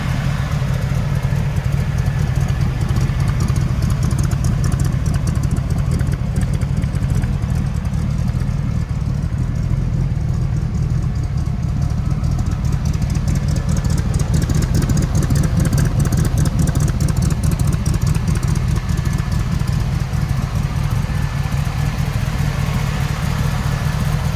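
A Shelby Cobra replica's newly built engine runs steadily at a low idle-like rumble, continuous and fairly loud throughout, with no talking.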